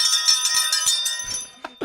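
A ringing bell chimes in a quick series of bright metallic strikes with sustained overtones, then a speaking voice cuts in as the ringing dies away.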